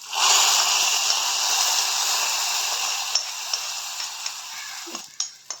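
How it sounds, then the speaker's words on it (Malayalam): Mustard seeds fried in oil are poured into simmering pacha theeyal, a green-paste Kerala curry, giving a loud, steady sizzle that fades gradually as scattered pops and crackles take over near the end. "അപ്പോഴേക്കും നമ്മളിനി കടുക് വറുത്തത് ഒഴിച്ചു കൊടുക്കുക."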